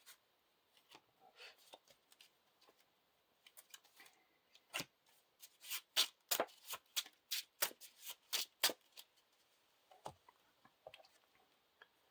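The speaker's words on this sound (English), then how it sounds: "Shuffle the encounter deck." A deck of game cards is shuffled during a tabletop card game, the riffles coming as quick bursts of crisp flicks and clatters that peak near the middle, with quieter handling and sliding sounds before and after.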